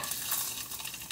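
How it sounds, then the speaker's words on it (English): Close sizzling of pot stickers frying in oil, a bright crackling hiss with slight scraping, brief and constant. "They're gonna sizzle."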